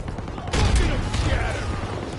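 Gunfire in the World War II shooter Call of Duty WWII, a dense burst of shots and explosions kicking in after half a second and rumbling on loudly amid battle noise, with faint talk.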